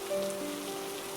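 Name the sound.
rain falling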